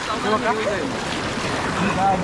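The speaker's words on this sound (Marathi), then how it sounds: "पाणी बघा किती आहे इकडे बापरे का फोर्स आहे पाण्याला" Cold, fast, waist-deep stream water rushes in a loud, continuous roar in the Konkan during fish catching, with voices calling over it.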